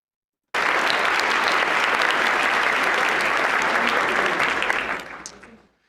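A large audience at the White House Correspondents' Dinner claps loudly and steadily for about five seconds, the applause thinning out and fading at the end.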